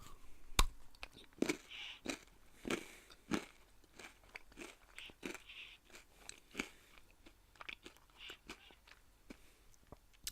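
A Heath candy bar is bitten and chewed close to the mic, giving repeated crisp crunches at an uneven pace that soften into quieter chewing over a hushed background.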